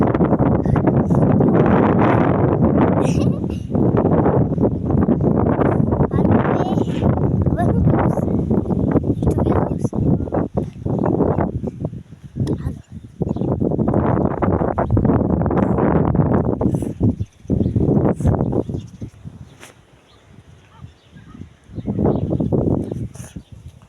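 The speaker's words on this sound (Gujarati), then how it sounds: "વરસાદ નથી ખોટો પવન છે" Strong wind buffeting the microphone in loud, rumbling gusts that rise and fall over a long stretch, with a brief lull near the end.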